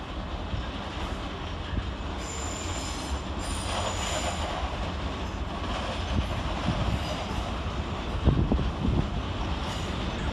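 Southeastern Railway train moving through London Waterloo station, a broad rumbling roar of wheels on track with metallic squeals and screeches, a brief louder burst near the end, steady throughout with no voices.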